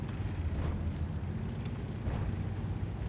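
Tank cannon shots in World of Tanks, two heavy booming blasts a little over a second apart over a low rumbling battle bed.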